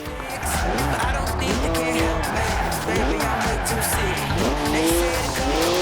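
A BMW drifting in Forza Horizon 4, rear-wheel drive, its engine revving up and down constantly while tires squeal through sustained slides, loud and close from start to finish.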